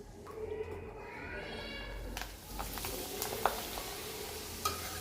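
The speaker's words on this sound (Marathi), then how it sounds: "आणखीन काही पापड मी तुम्हाला तळून दाखवते" Jowar flour papad frying in hot oil, a steady crackling sizzle with occasional sharper pops, close and moderately loud with no speech.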